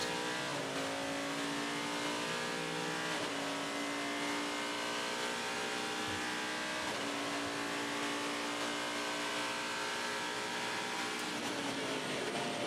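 Race cars at the 2016 Twelve Hours of Sebring, heard on board at about 140 mph onto the Ullman Straight: a loud, continuous high engine whine rises through repeated upshifts, with the pitch climbing and dropping in steps over several seconds.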